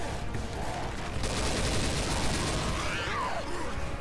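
Dense, steady gunfire from a Left 4 Dead 2 firefight, a continuous loud wash of shots filling the whole stretch with chaotic game noise layered over it.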